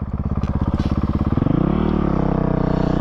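Honda CRF450RL motorcycle on a short test ride, close and loud, the engine thumping in rapid pulses as it pulls away, then smoothing into a higher, steady drone.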